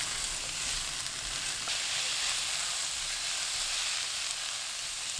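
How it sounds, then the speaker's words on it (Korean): Radish and a tablespoon of olive oil stir-fry over high heat in a preheated pan, giving a steady, close, full sizzle that runs evenly throughout with no talk. "달군 팬에 무, 올리브유 1큰술 넣고 센 불로 1분 볶습니다"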